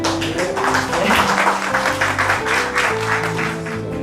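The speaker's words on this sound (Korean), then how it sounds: "멋진 한 사람에게 응원의 박수 보내주실 거죠?" Audience applause in a Korean television documentary studio, a sustained round of clapping with steady musical tones sounding underneath, loud and close.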